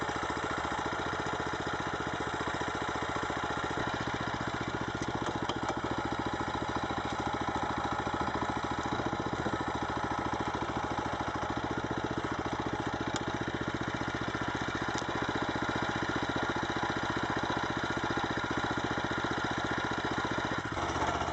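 A timber truck's engine-driven cable winch drags logs into the cargo hold, giving a steady, unbroken mid-pitched engine drone at moderate distance with no pauses.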